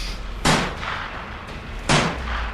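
Two loud, sharp shotgun blasts a little over a second apart ring out as sound effects in a French horror story set in a bayou swamp.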